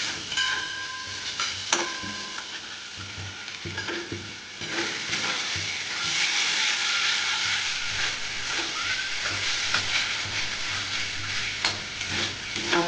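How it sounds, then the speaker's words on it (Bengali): Ground coriander, cumin, turmeric, Kashmiri chilli and salt fry in oil for a fish curry, a continuous sizzle with repeated scraping stirs of a spatula against the pan, close and fairly loud throughout, with no talking. "এবার ভালো করে আমি মশলাটাকে কষাতে থাকবো যতক্ষণ না তেল থাকবো"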